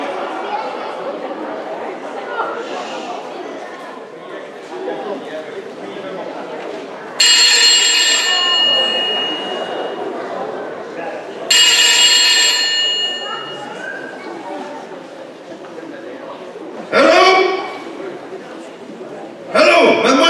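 A telephone rings in bursts, two long electronic rings followed by shorter ones, cutting loudly through people talking in the foreground.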